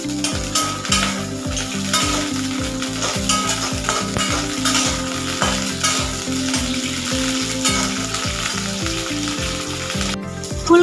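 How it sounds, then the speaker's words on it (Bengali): Cauliflower frying in hot mustard oil in a wok gives a loud, continuous sizzle with stirring noises, and music plays in the background. "দিয়ে দিচ্ছি এখানে ফুলকপি"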